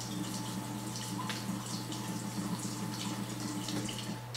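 Tap water runs steadily in a home plant-care setting, a continuous broadband rush with a low hum underneath and occasional small splashes, close and alone with no talking.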